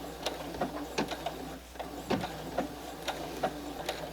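Sewing machine stitching quilt appliqué at its smallest stitch length and height: quick, regular mechanical clicking and ticking with a faint motor hum underneath, close up and without talk.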